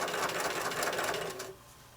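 A sewing machine runs quickly, stitching quilt blocks along a fold, as a fast steady mechanical whir that stops abruptly near the end.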